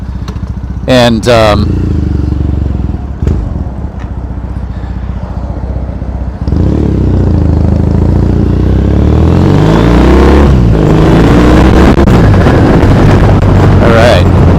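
A motorcycle rides through Tokyo streets, its engine droning and revving close under heavy wind buffeting, with passing traffic around and a voice talking briefly.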